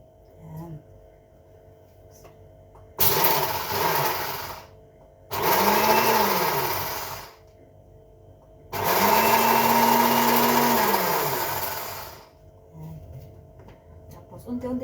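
A kitchen blender grinds soaked rice for puto bigas in two or three loud bursts of a few seconds each, its whirring motor pitch sagging under load and then rising again, with short pauses between runs.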